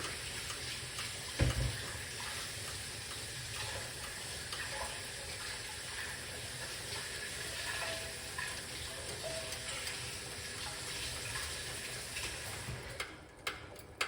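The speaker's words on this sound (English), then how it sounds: "I'm gonna need to wash the ingredients" Rosemary and other ingredients rinsed under a running tap, a continuous faint hiss of flowing water with occasional small knocks and splashes.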